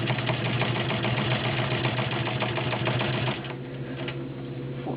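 Rolls Class 15 clone straight-stitch sewing machine punching through four layers of raw denim, a rapid steady mechanical chatter that runs loud and close, then slows and softens near the end.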